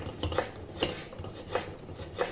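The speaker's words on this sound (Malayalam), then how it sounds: "അപ്പോൾ ഞാനിതൊന്ന് ചെറുതാക്കി മുറിച്ചെടുക്കാം" Kitchen knife chopping mango into small pieces for a mango curry, a few sharp clicks of blade on board spaced irregularly, close and fairly quiet with faint background clatter.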